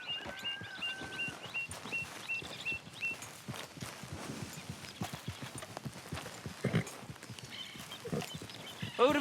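A horse walks and trots in Red Dead Redemption 2 with a steady, close clip-clop of hooves over ground, faint birdsong and light ambient noise behind it.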